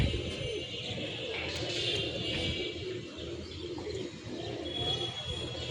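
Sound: pigeons cooing

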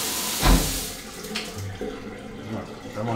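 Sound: high-pressure shower running water in a luxury suite

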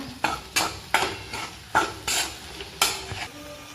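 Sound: stir-frying homemade black masala in a kadhai

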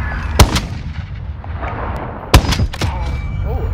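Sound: sniper rifle gunfire in Call of Duty Modern Warfare video game

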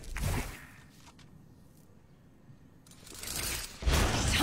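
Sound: weapon reloading in Valorant video game

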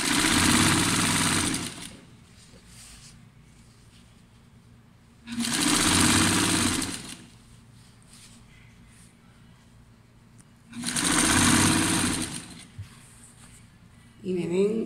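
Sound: sewing machine stitching a blouse seam

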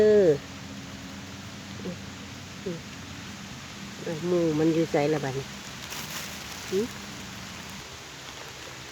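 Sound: rain falling

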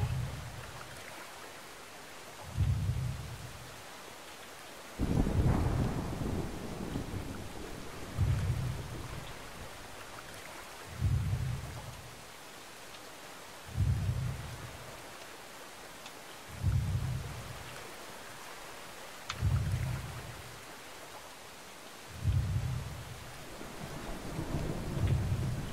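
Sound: thunderstorm with lightning in the video game Brothers: A Tale of Two Sons

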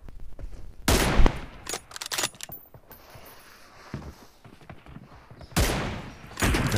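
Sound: M24 sniper rifle gunfire in a video game

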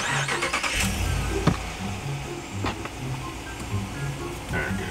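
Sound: car engine starting

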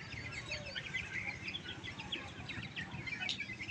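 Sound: chicks and chickens chirping

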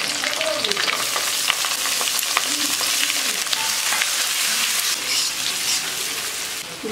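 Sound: chopped garlic, ginger frying and stirred in pan

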